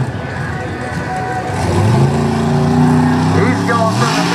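A monster truck engine roars up while driving through mud at a mud bog show, the loud revving rising and holding steady as the announcer talks over it.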